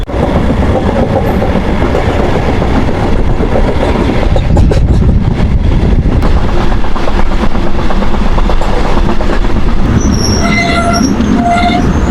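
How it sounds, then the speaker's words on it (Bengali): A local train runs from Bardhaman toward Durgapur in the small hours, its wagons rumbling loud and steady with rail clatter, then sharp wheel squeals rising near the end as it slows. "আমাদের এই ট্রেন এসে পৌঁছেছে তালিত রেলওয়ে স্টেশনে তিন নম্বর প্ল্যাটফর্মে"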